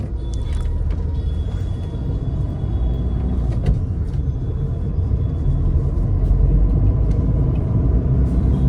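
Hyundai i20 diesel car's engine while driving, a steady, fairly loud low rumble with road noise holding throughout, no talking.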